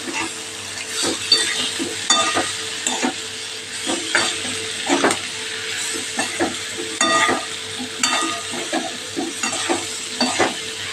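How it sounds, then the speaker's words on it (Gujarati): Grated carrot, cabbage and chili sambharo is tossed and mixed in a hot pan, with a quiet sizzle under rhythmic stirring scrapes and occasional spoon clinks against the metal. "હવે સરસ આપણે મિક્સ કરી લઈશું"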